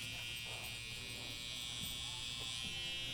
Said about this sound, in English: So now I'm gonna take the liners and go real short in here.